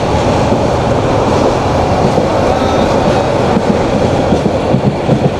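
The Paharika Express from Sylhet to Chittagong, Bangladesh, rumbles loudly on the rails with a dense continuous roar and rhythmic wheel clatter, heard from inside the moving carriage.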